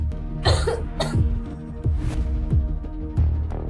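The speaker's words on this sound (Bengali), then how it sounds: "ঠান্ডার কারণে সে কাশি শুরু করেছিল" A character in a Bengali audio drama coughs from a cold: several sharp, close coughs and throat-clearing bursts spread across a few seconds over a soft, steady musical bed.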